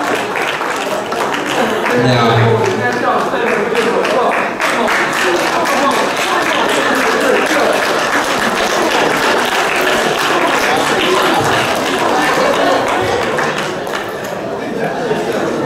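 A congregation at a church Black History program keeps up loud, continuous applause for the whole stretch, with scattered voices and chatter mixed in and a single spoken word near the end.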